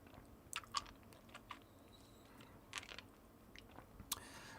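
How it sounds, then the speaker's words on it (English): Close, quiet crunching and clicking as a hard candy is chewed, irregular crisp bites scattered over a faint background hiss. "you guys can hear me chewing on a candy here"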